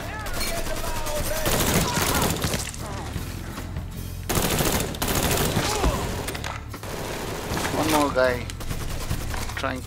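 Gunfire in Mafia III, with shotgun blasts among a dense, continuous run of shots and heavy action noise through the stretch, loud and busy with no clear gaps.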